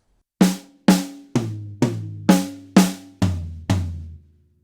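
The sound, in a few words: eighth-note drum fill around snare and toms, Premier drums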